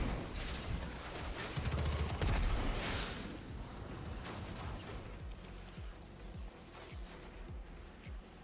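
Sniper fire in Destiny 2, with a loud blast and rumble early on followed by a series of sharp, spaced single shots in the background.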